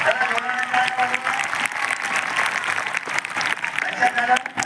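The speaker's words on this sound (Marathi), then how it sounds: "जेव्हा मनापासून करताना त्याला जोराने टाळ्या वाजवा" A hall of high school students claps loudly and enthusiastically in a dense, sustained round of applause, heard close, with some voices mixed in.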